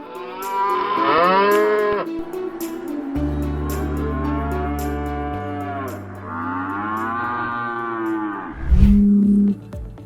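Texas Longhorn cattle moo in long, drawn-out calls, several loud overlapping bellows from nearby animals, rising and falling across the stretch, with a deeper rumbling low call and a final brief grunt.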